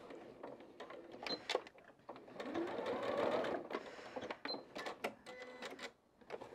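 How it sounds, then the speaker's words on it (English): A sewing machine stitches a self-binding quilted table runner, running in a steady whir that builds and then slows into a few separate clicking stitches, close and moderately quiet. "I'll take my foot off the pedal and then it will still stitch out 1 or 2 more stitches."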